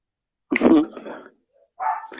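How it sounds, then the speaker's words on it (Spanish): Small dogs barking in a burst, a few close yaps followed by another short flurry after a pause, with no speech over them. "Acaban de enloquecer los perritos, creo que vino alguien."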